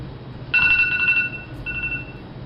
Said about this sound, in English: I set an alarm for you to be able to turn off.